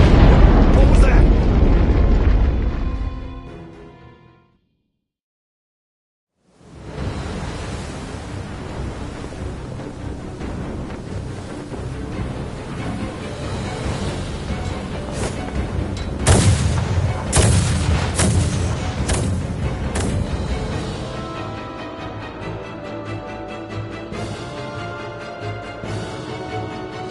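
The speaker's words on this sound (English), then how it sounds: "Their unceasing bombardment is laying waste to our forces." Heavy naval artillery bombardment in a video game booms loudly and steadily, with sharp blasts and dense rumbling rolling on after a brief near-silent gap, while voices speak over the barrage.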